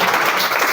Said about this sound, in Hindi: बहुत बढ़िया, ताली हो जाए।